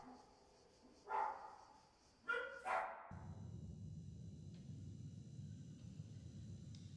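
Dogs bark in a cat video game set in a dark place. Two or three sharp barks ring out in the distance, then a low steady ambient rumble takes over.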